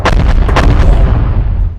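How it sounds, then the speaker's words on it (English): Booming cannon fire from a pirate ship in a tabletop miniatures battle, a loud close volley of several heavy blasts in quick succession that rumbles and fades out. "They're going to shoot their regular cannons."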